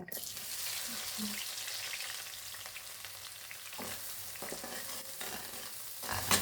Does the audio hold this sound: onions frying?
yes